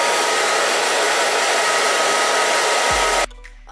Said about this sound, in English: I'm just going to go over with my hair dryer. I'm just going to give it a quick blast on a low setting.